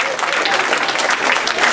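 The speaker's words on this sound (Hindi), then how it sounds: "आप तो ताली बजाओ, आप तो ताली।" Audience clapping at a spiritual discourse on the Shiva Purana, a dense, continuous burst of crowd applause with a loud crowd.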